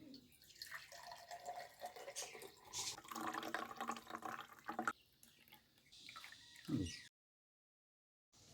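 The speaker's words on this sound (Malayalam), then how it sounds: "തണുത്ത വെള്ളം കൂടെ ഒഴിക്കുക" Cold water poured into a blended raw green mango juice, a splashing liquid sound lasting several seconds, fairly close, ending abruptly with a brief sharper splash before silence.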